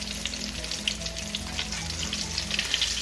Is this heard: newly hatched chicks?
no